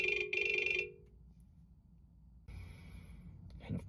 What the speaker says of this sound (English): Of course, my phone just rang.